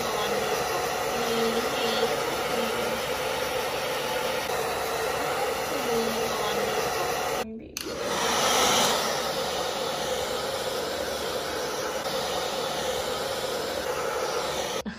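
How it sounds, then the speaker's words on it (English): A hair dryer on its cold setting blows in a steady, loud whooshing hiss while drying a freshly washed cat, with a brief cutout midway before the airflow resumes. "We're gonna go ahead and blow dry him a little bit"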